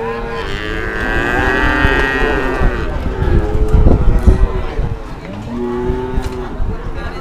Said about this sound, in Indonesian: Inilah sapi limusin dengan bandrol 12 dan 13 juta.